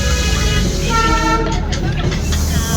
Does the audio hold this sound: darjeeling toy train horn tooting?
yes